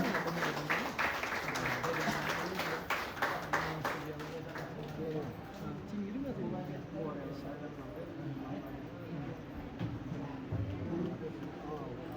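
Ceremonial applause at an establishment-day gathering in Nepal: a crowd claps in a burst during the first few seconds, then thins out under ongoing speech and background noise.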